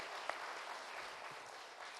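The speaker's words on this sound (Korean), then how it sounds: "우리 하나님께 영광의 박수 올려드리도록 하겠습니다." A congregation at a Korean church Sunday worship service claps together in steady, faint applause that sounds distant and even for the whole moment.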